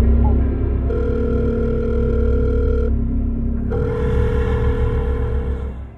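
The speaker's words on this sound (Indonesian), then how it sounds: "kita langsung sambungin aja sama telepon pertama di Spooky Phone Nightmare Side malam hari ini" Telephone line audio: a steady dial tone, then a ringing tone in alternating bursts with a short gap, played loud and clear before a call connects on a late-night horror phone-in show.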